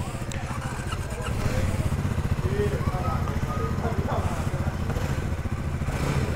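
Triumph Speed 400 and Scrambler 400 motorcycles pulling away at a dealership test ride, engines droning and receding at moderate distance under a bustle of background voices.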